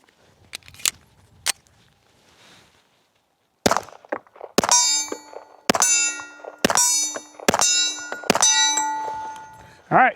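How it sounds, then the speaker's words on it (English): A Kimber 1911 pistol fires about half a magazine to check that it still cycles: several sharp, loud reports at uneven intervals, each with a ringing metallic tail, following a few quieter clicks and a short silence. "we're gonna go ahead and shoot about half a mag through each one"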